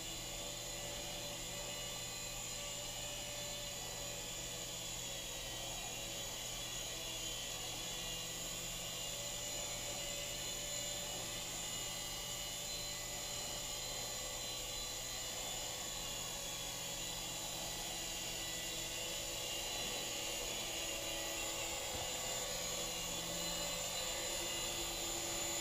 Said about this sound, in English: This thing can fly pretty good. It's kind of a cool little copter.